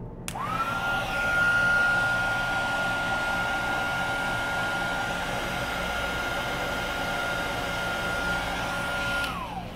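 A heat tool blows hot air to dry embossing paste on a stencil, a loud steady whirring hum that starts abruptly, holds for nearly ten seconds, and then cuts off.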